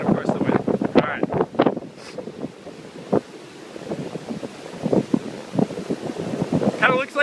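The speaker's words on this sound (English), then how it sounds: "the wind's picking back up right now" Strong coastal wind buffets the microphone while skateboarding along a cement beach path between Huntington Beach and Newport, with sand blowing across the ground; loud, gusty rumble throughout, with a voice talking at the start.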